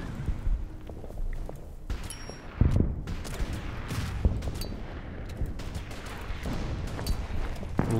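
Artillery fire in the Pacific war strategy game Order of Battle Pacific, a few muffled booms and thuds scattered over a low rumbling background, fairly quiet throughout.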